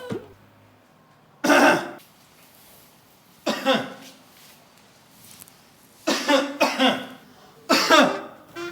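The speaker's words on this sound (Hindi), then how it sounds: "अरे जब इतनी है खांसी हो रही से," A woman in a Haryanvi household drama coughs in several harsh bursts, some as quick doubled hacks, separated by quiet pauses, close to the listener with no talking.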